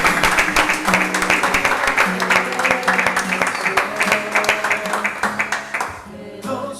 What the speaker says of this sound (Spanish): dale un fuerte aplauso al Señor de este video